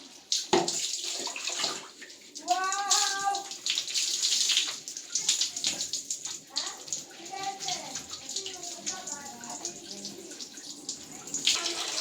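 Water splashes and pours steadily while soap is rinsed off during a bath, with a voice and an adult's voice talking over the continuous running and splashing.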